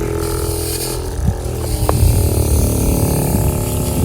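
An end-of-season pump sprayer flushes soapy water through its tank with a loud, steady hiss and motor drone that swells slightly midway and holds throughout.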